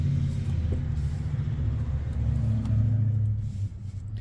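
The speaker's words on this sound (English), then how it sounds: "Got a bit of traffic noise." Road traffic drifts in through open windows: a steady low rumble of passing cars with a mid-pitched engine hum that swells slightly and fades, continuous and moderately loud with no speech.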